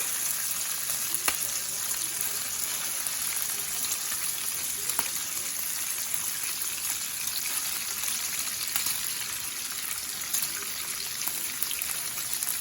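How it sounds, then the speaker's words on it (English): Strips of bacon sizzling on a 17-inch Blackstone E-Series griddle make a steady, close, hissing crackle with tiny pops scattered throughout and no other sounds. "This should be white noise to sleep to. Just turning this bacon over."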